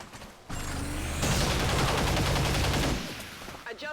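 A squad opens fire on a turret in XCOM 2, with a dense, loud rattle of overlapping rifle and machine-gun bursts lasting a couple of seconds before cutting off, then a few faint mechanical clicks.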